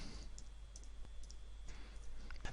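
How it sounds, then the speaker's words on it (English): Faint, scattered key clicks from a computer keyboard as an email address is typed, soft and irregular against a quiet background hum. "So let me just type that in."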